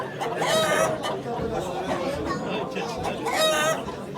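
Chickens cluck and chatter at a busy, noisy poultry auction in Ankara, with voices talking loudly in Turkish over the birds throughout.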